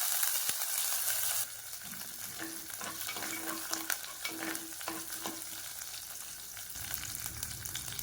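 Curry leaves and asafoetida crackle and pop in hot oil, with scraping stirring sounds over a steady, close sizzle.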